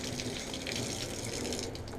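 Water runs steadily from a tap at a campsite, a continuous close hiss and splash that holds level for the whole stretch before easing slightly at the end, no voices.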